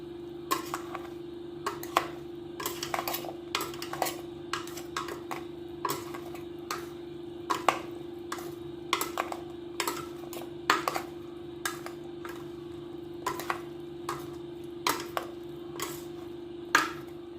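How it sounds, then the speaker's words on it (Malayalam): A spoon knocks against a bowl while fruit salad is stirred together, giving sparse, irregular light clicks and taps over a faint steady hum, with no one talking. "ഇനി നമുക്ക് എല്ലാം കൂടെ ഒന്ന് ഇളക്കാം"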